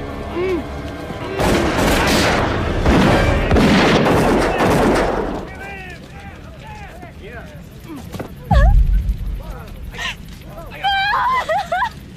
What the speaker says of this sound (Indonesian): Richie langsung mendatangi camp Gypsy dan menembaki mereka semua secara membabi buta